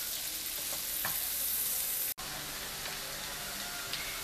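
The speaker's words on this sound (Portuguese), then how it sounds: "Fritar bem a nossa cebola e o alho até ficar bem transparente" Onion and garlic frying in a pan, a steady close crackling sizzle with a few small pops and one brief cut in the middle.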